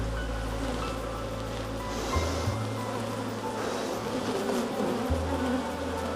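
Honeybees in an open hive, unsmoked and calm, make a steady, dense buzz close by throughout, with a low rumbling hum underneath and no talking.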